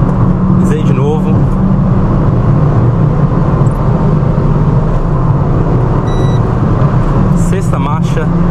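A car engine accelerates hard, a loud continuous roar that swells as the gears climb, heard from close by inside the car with someone talking over it.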